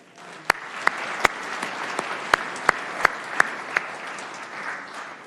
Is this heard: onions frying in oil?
no